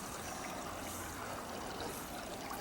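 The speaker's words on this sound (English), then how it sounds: "But I'm hearing the water." A stream runs through snowy woods, its water trickling and flowing in a steady, close wash of sound that holds evenly throughout, with no voices present.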